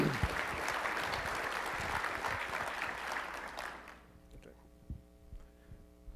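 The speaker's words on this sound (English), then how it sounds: "Give him a round of applause." An audience at an innovation talk breaks into applause that fills the room for about four seconds, then fades into low hum and scattered faint noises.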